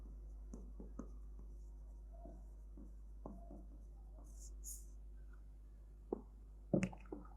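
A pen writes on paper to note the given data for a physics problem, producing faint, scattered scratchy strokes and taps over a steady low hum.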